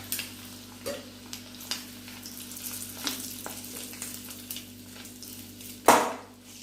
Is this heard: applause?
no